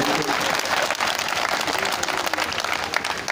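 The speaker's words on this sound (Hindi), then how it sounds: "तालियां चाहता हूँ बस इस गीत पे, तो पहले बजा लेता हूँ" A crowd applauding at a Hindi poetry recital in Kasganj, dense continuous clapping filling the room, close and loud, with a voice faintly under it.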